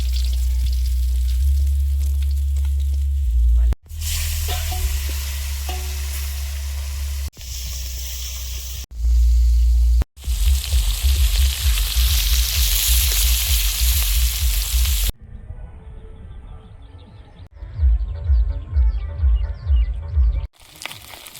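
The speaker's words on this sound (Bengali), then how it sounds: "আর পুঁটি মাছগুলো ভেজে নেব" Small puti fish (pool barb) sizzle and crackle in hot oil, a loud, steady frying hiss with brief breaks, ending with quieter bubbling spatter.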